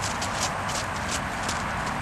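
A dun mustang gelding in saddle retraining steps on the ground in Colorado, its hooves thudding in a soft, steady clip-clop close by, alone with no voices.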